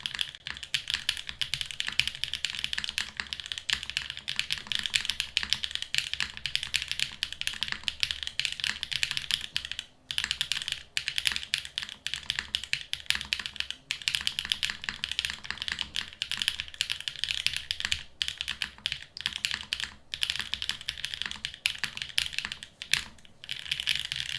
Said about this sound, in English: This seems to be the prevailing thing with a lot of these, is the depth of the spacebar in this keyboard.